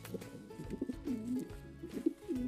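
King pigeons cooing softly, a few low rolling coos repeating at a quiet, close distance with no talk over them.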